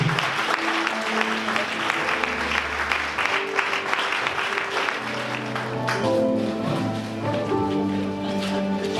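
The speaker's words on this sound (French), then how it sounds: "On acclame le Seigneur Jésus." A church congregation at a baptism claps together in praise of Jesus, producing a sustained wash of applause with tuneful voices or music mixed in, fading somewhat toward the end.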